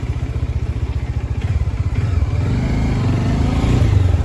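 Idling motorcycle engine with a steady low putter, close and loud, the tone thickening slightly as the bike is moved for parking near an auditorium.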